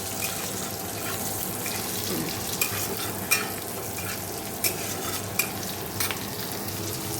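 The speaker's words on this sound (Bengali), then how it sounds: "এদিকে দেখো পাঁচ ফোড়ন ফোড়ন দিয়ে পেঁয়াজ ভাজা হচ্ছে" Onion frying in oil with panch phoron spices in a home kitchen on a winter morning, a steady soft sizzle running throughout with a few sharp clinks and utensil taps scattered over it, no voices.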